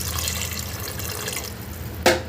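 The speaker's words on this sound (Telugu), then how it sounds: "ఇప్పుడే వాటర్ కూడా పోసేస్తానండి" Water poured into cooked mutton curry in a pot, a steady soft liquid splashing and trickling, ending with a brief sharper splash.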